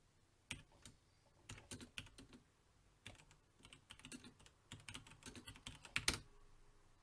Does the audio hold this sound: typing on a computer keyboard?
yes